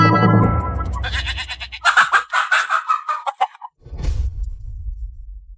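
A rooster crows loudly up close in a few strained, rising bursts, followed by a low rumble of engine or background noise.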